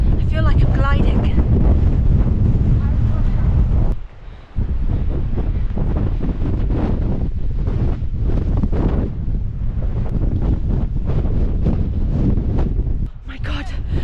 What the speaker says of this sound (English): I love how the wind's behind me now